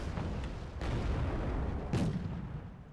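A 20mm autocannon fires in the real-time strategy game Wargame: Red Dragon, giving a few heavy, booming reports over a continuous low rumble of battle, heard without talk.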